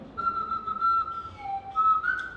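A homemade Swanee whistle of hard PVC pipe and wooden doweling plays sliding, wavering tones, a thin reedy pitch gliding down and back up in short phrases, clear and fairly close.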